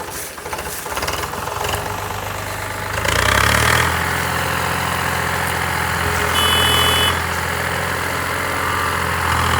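A tractor hauling sugarcane, loaded to about eight tons, runs with a loud, steady diesel engine drone that rises in revs partway through, close by with rough knocking texture.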